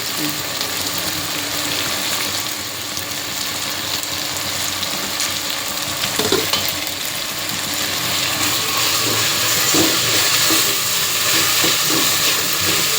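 Carrots, beans and cauliflower frying in a pan in a North Karnataka style home kitchen, giving a steady, close hiss and sizzle throughout with a few faint clinks of stirring.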